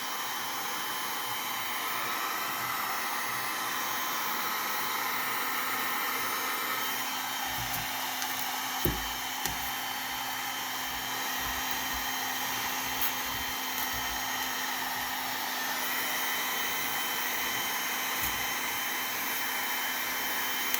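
A heat gun blows steadily at close range while melting Sno-Seal wax into leather work gloves, a constant airy whoosh with faint handling rustles and occasional light taps.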